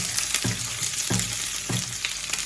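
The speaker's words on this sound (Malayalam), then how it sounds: "ചെറിയ ഉള്ളി ഒരു നാലഞ്ചെണ്ണം എടുത്തിട്ട് അന്ന് നന്നായിട്ട് വഴറ്റുക" Small onions (shallots) and popped mustard seeds sauté in hot oil for a Kerala colocasia-stem tamarind curry, a steady close sizzle broken by three regular scraping stirs of the spoon.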